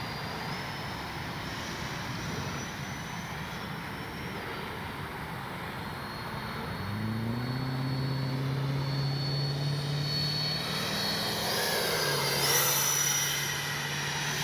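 An FMS Su-27 RC jet with twin 70mm ducted fans flies past as a steady whooshing roar that swells as it comes nearer, with a rising tonal whine partway through and no talk.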